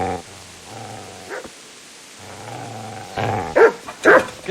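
In the video game Kingdom Come: Deliverance, a dog growls low and whimpers, then breaks into sharp, loud barks near the end.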